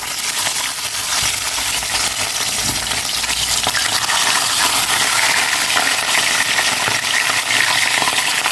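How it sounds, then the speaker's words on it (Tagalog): Pompano fish frying in a pan of hot oil, a loud continuous sizzle and crackle close by, with light scraping and popping spatters throughout. "Prito ko na po itong pampano."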